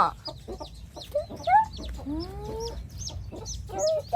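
Chickens cluck and chirp in short bursts close by, with small chick peeps scattered between the louder clucks over a quiet background.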